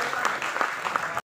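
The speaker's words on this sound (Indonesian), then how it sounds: "tepuk tangan dong" Studio audience applause on an Indonesian television show set, a short, scattered patch of clapping with a few sharper claps before it cuts off abruptly.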